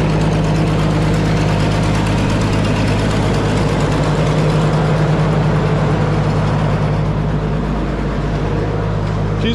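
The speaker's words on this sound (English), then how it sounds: "She's a smooth running tractor." An Allis-Chalmers D15 tractor engine idling close by, a steady low rumble with an even, unbroken tone running the whole time.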